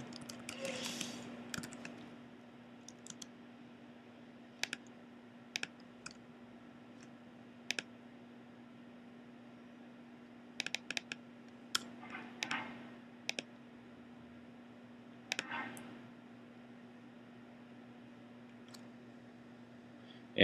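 Sparse, faint clicks from a computer keyboard or mouse while someone fills in an online form. Short isolated taps and a few quick clusters are spread across a quiet background hum.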